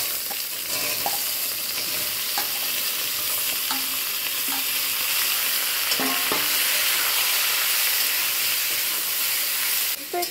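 Panch phoron and green chillies sizzle and fry in a wok over steady heat, a continuous bright hiss with occasional stirring clinks and scrapes, and no talking.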